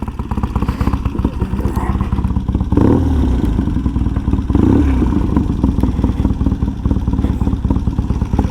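A Triumph T140 motorcycle engine rumbles loudly with a steady throbbing beat, revving up briefly as it pulls away, with some clatter.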